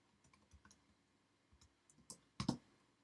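Quiet computer keyboard typing while entering code in Xcode 4: scattered soft key clicks, then a few sharper taps near the end, recorded close up at low volume with no speech.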